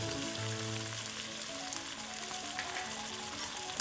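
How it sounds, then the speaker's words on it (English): Shrimp and bok choy sizzle loudly in a hot wok with sesame oil, a steady dense crackle that holds through the whole stretch with no talking. "Give it a big stir fry so we can get the shining look in."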